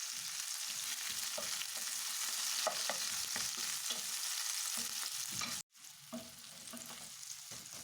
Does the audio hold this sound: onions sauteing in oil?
yes